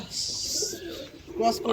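Madras pigeons coo softly in a loft, close by, with low throaty calls under people chatting nearby.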